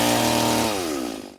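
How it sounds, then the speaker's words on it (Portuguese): A firefighters' chainsaw cuts the branches of a fallen tree that struck a car, its loud, near engine whining high as it bites, then dropping in pitch as the revs fall away. "Os bombeiros usaram uma motosserra para cortar os galhos."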